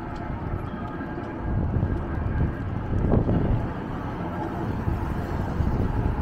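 Wind buffets the microphone on a downtown Lexington, Kentucky city street, a low, steady rumble that swells in gusts over faint urban background noise.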